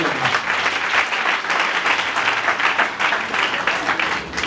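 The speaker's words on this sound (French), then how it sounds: "Clap hands for yourself." A church congregation claps and applauds together, a dense, steady wash of hand claps filling the whole stretch at close range.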